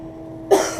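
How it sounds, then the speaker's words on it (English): A man coughs twice in quick succession, close and fairly loud, abrupt throaty bursts in an otherwise quiet space. "Excuse my coughing."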